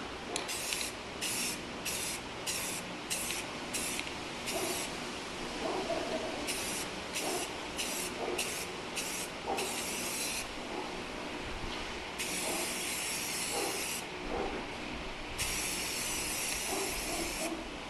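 Aerosol spray paint hissing in repeated short bursts, then longer blasts, as orange paint is sprayed onto Toyota Tundra grille emblems, loud and close with brief pauses between passes.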